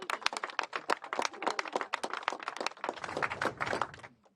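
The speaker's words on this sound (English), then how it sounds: "give him a round of applause." Audience applause at a press event for Breonna Taylor's family, a short burst of scattered, fairly faint clapping from a modest crowd that thins out and stops after about four seconds.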